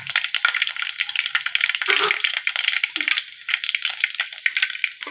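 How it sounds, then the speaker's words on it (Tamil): Mustard, cumin and fenugreek seeds hit hot oil and crackle into a loud, dense sizzle with sharp popping bursts, close and continuous throughout. "கடுகு, சீரகம், வெந்தயம் 3 கொஞ்சம் போட்டு தாளிச்சிக்கலாம்."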